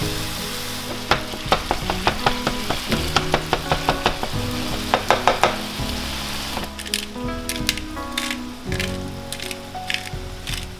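Ground meat with oregano, cumin and minced garlic frying in a large skillet, a steady sizzle broken by a run of sharp scraping clicks from stirring, loud and close with no talk.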